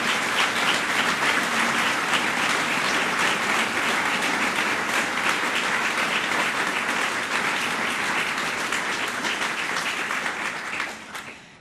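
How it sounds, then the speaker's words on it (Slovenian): An audience at a choir's jubilee concert gives former choir conductors a long, loud, even round of applause that fills the hall, then tapers off sharply at the very end. "Prosim za en aplavz."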